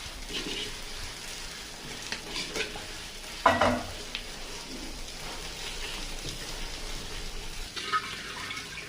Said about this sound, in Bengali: এবার আমি ভেজে রাখা মাছগুলো দিয়ে দিচ্ছি